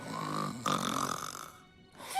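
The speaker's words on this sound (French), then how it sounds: "tu ronflais légèrement" Light snoring from an animated pony character in a cartoon episode: a soft, drawn-out snore that pauses briefly and resumes, heard on its own without talk.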